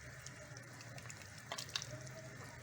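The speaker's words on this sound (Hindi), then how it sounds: "अब ये भून रही है, खदबदा रही है।" Chicken malai boti cooking in an open handi with yogurt and ground onion, a steady close hiss of frying and bubbling with a few brief crackles and clinks, no talking.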